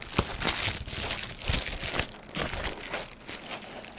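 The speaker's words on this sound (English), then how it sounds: "This might be the latest package we've ever opened." A package being opened, with its plastic or paper wrapping crinkling and crunching in close, repeated bursts of rustling over several seconds.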